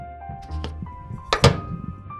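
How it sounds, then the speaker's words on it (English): A lock mechanism in a stealth video game clicks through a contact microphone: a few soft mechanical thunks, then a sharper, louder click burst near the middle, close and isolated with no talking. "you should be able to hear the click from the locking mechanism"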